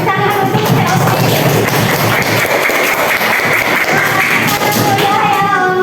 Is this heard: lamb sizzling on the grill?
no